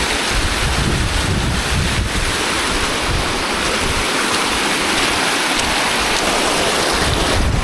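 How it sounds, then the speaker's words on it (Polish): A rushing waterfall on a rainy forest hike to Avalanche Lake, heard as a loud, continuous broadband roar of falling water with wind buffeting the microphone, no voices. "Przechodzimy sobie, Państwa, przez wodospad."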